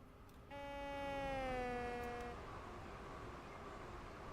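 A multi-tone train horn sounds in Train Simulator 2018, one sustained, faint, distant blast of about two seconds, then fading into background rumble.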